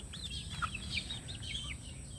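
Tame backyard chickens, roosters among them, cluck and chirp softly in quick, overlapping calls against a low background hum.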